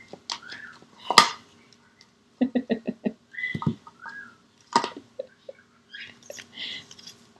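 Indoor birds make a series of short chirps, squeaks and twittering calls in scattered bursts, fairly close, with quiet pauses between them.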